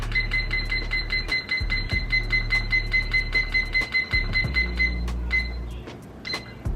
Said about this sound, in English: here's my noisy timer